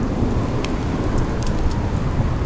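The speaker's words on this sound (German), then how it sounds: "Es regnet immer noch nach 9 Stunden." Steady rain falling in the video game The Solus Project, a dense continuous hiss with low rumble holding at a constant level throughout, no voices.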